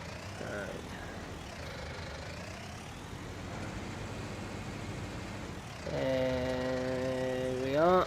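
A small Fendt tractor engine drones steadily in a farming simulator game, a continuous rumbling hum that grows louder and more tonal near the end, with a revving rise at the close.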